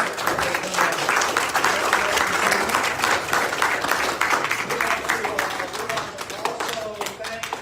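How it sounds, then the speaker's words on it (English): Audience at a state house candidate forum giving the candidates a round of applause, dense steady clapping filling the room for several seconds, with voices mixed in. "let's give all of these candidates a round of applause."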